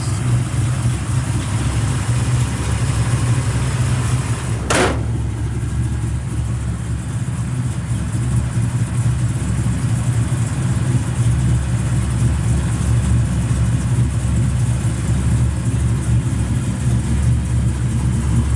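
A 1970 Dodge Dart Swinger with a hydraulic roller cam idles close by, its heavy, steady, lopey rumble running unbroken throughout, with one brief sharp click partway in and no voices.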